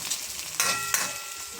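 Coconut milk is poured into a pan of frying mackerel and sets off a bright, close burst of sizzle. A second surge follows a moment later over the steady background crackle of the oil.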